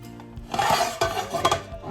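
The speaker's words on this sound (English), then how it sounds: "You're just gonna keep stirring until your butter melts" Thyme and butter being stirred in a cast iron skillet: a spoon scrapes and clinks against the metal pan in short, irregular strokes at close range, with no talking.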